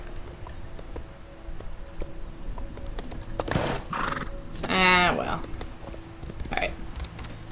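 A horse in Elder Scrolls Online gallops with rhythmic hoof clops and gives one loud whinny midway, with keyboard clicks and someone talking around it.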